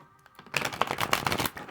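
A deck of spiritual oracle cards is shuffled and spun around by hand, a dense run of crisp papery riffling and slapping that starts after a quiet moment and continues close and steady to the end.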